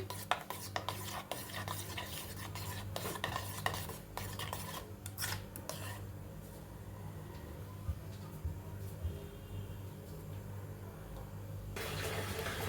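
Neem soap base melting in a pot and stirred steadily, with busy clinking and scraping strokes at first that ease into a quieter swirl, then a brief louder burst near the end, close and moderately soft.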